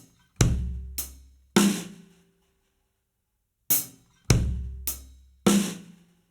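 Drum groove played as sparse strikes with a clear pattern of accented hits, some with booming low kick-like body and sharp cymbal/snare tops, separated by pauses; loud, close and alone.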